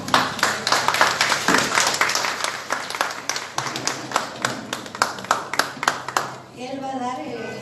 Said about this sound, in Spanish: quisiera que le den un aplauso